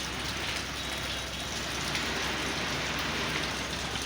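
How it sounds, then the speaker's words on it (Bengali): Heavy rain pours down at Sadarghat river port in Dhaka during Cyclone Remal, making a dense, unbroken roar of drops hitting surfaces. It stays loud and steady throughout, with no voices. "ঢাকাতে প্রচুর বৃষ্টি এবং প্রচুর বাতাস হইতেছে"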